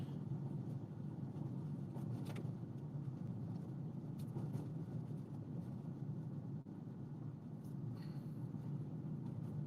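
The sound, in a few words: car driving on a gravel road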